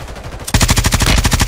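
Video game gunfire: a rapid automatic burst of about a dozen loud, evenly spaced shots after a short quieter lead-in.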